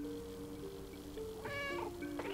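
The cat character in the video game Stray meows, a couple of tonal, drawn-out mews near the end over a steady low game ambience and soft background tones.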